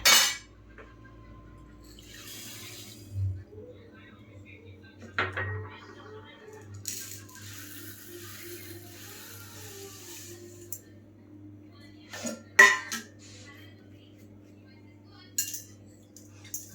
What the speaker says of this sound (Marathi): मंद गॅसवर आपण चमच्याने थोडं हलवत राहूया साखर वितळेपर्यंत